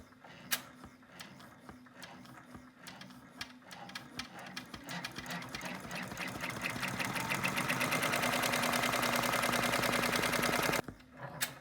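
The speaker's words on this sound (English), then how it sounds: "With your hoop back on the machine, stitch out step 2 of the stitch map." Embroidery machine stitching out a design on a hooped key fob: rapid mechanical needle clatter that speeds up into a steady, dense whirring rhythm, close and fairly loud, then stops abruptly.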